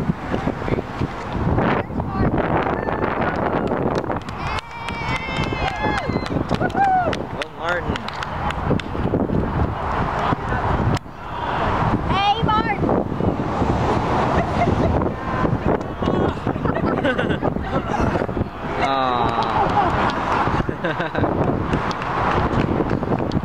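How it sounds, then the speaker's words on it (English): Strong outdoor wind at a gorge buffets the microphone in a dense, continuous roar that runs steadily throughout, with some voices faintly mixed in. "It's really, really windy, so I'm gonna have to cover this microphone."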